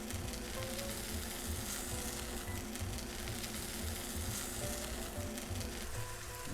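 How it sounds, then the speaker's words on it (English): Filet mignon steaks sizzle hard in a hot oiled pan, a continuous crackling hiss with fine popping spatter that stays loud and close throughout, with no talking over it. "Gonna get some serious sizzle."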